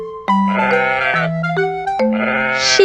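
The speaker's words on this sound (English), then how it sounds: "Sheep," Sheep bleating in loud, wavering, nasal calls, two main bleats with a short break between, close and clear with no talking.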